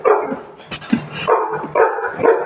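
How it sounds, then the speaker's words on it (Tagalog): A dog barks outdoors several times, loud and close, in short gruff bursts with brief pauses between them. "Ayan ang aso namin dito sa labas."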